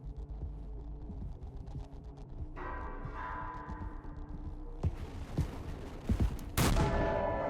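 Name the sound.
gunshot in video game Mouthwashing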